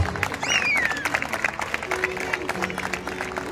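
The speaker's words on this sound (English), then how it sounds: "Can we have a big round of applause?" An audience applauds at a live school event in Pune, a steady patter of many hands clapping at moderate loudness, with a sliding whistle-like tone near the start and a voice over it.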